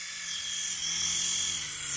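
A small infrared induction toy helicopter flies close by, its rotors giving a steady high-pitched buzzing whine that swells slightly and holds throughout.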